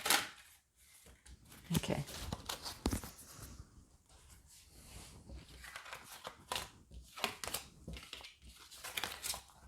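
Tarot cards being shuffled by hand, a series of crisp papery riffles and soft slaps in uneven bursts throughout, close and fairly quiet, with a brief spoken word near the start.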